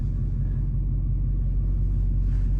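A Dodge Charger Hellcat's engine rumbles low and steady from inside the car while driving on Michelin Pilot Sport all-season tires, a continuous close drone with no talk.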